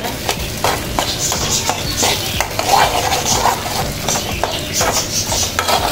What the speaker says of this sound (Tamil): அப்படியே அதில் கொஞ்சம் கொஞ்சமாக அந்த வெண்டைக்காயை சேர்த்து நல்லா கிளறி விட்டுருங்க.